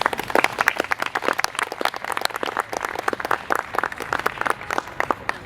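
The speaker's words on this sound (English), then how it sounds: "Big round of applause for Ali." An audience claps for a speaker after a book talk, with sustained, lively, dense applause from many hands filling the room at a steady level for several seconds.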